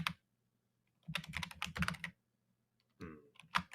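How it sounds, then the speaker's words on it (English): Rapid bursts of loud, close computer keyboard typing, two dense clattering runs of keystrokes separated by a short silence. "Hopefully, it's not going to be too loud and I'm gonna be typing obnoxious."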